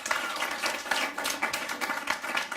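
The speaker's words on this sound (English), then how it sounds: "Give him a round of applause" An audience at a comedy roast claps and applauds, a dense, steady patter of many hands, moderately loud with no voices over it.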